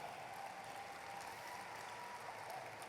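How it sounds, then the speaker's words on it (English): An audience at a high school sports awards show applauds in a steady, even wash of clapping, quiet and distant, sustained without pause. "You can clap, you can clap."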